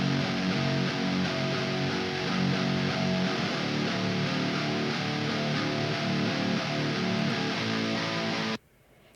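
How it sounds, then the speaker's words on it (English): Low octave guitars pitched down an octave, playing simple single-string lines through a heavily processed mix, dense and sustained before cutting off abruptly near the end. "So these low octave guitars are really cool."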